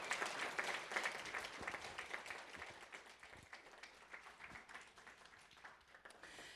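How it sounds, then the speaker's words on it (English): Steady applause from an audience at a moot court state championship, fairly faint and distant, with dense clapping that gradually thins toward the end. "Please give these 4 lovely students a round of applause"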